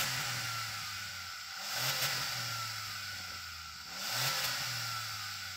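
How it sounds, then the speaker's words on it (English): A small car's engine revving twice in a drag-race comparison of a Kia Picanto, Citroën Ami, Suzuki Jimny and Toyota Aygo X, each rev swelling then falling back to a steady idle, close and loud with no talk. "Okay, Jade, let's have a listen to your car."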